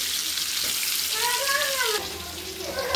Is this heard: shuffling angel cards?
no